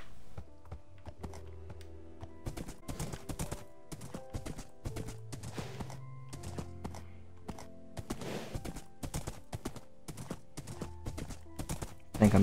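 Horse hooves clip-clopping in the video game Minecraft, faint, irregular hollow clops with an occasional heavier thunk as the horse moves around.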